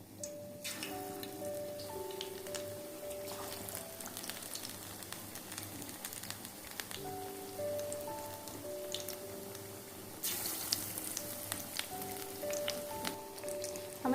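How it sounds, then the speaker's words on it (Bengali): Battered cauliflower pakoras fry in hot oil, a continuous crackling, rain-like sizzle with scattered pops, moderately quiet and steady, with faint tonal background sounds. "এভাবে আমি সবগুলো ফুলকপি তেলের মধ্যে দিয়ে দেব।"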